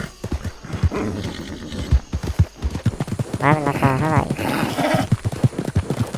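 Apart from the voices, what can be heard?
horse neighing and hooves in Red Dead video game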